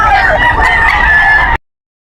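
A rooster crows loudly and close by at a chicken market, one sustained cock-a-doodle-doo call that cuts off abruptly.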